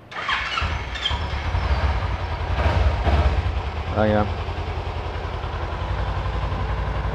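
A Kawasaki Z300 motorcycle with ABS and about 17,000 km on it starts up and settles into a steady, close idle, its low engine rumble running continuously under brief talk.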